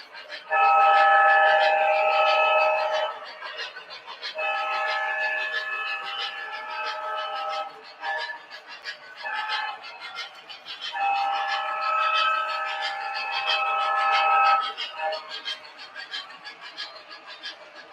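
A model train whistle blows in long, steady multi-tone blasts, three main sustained calls with shorter toots between, loud and close.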